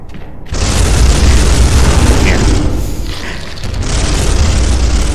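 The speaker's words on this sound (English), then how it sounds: "Gotta say, that assault cannon really burned through its ammo." An assault cannon firing in the video game Space Hulk: a loud, continuous roar of booming bursts that runs for several seconds with no break.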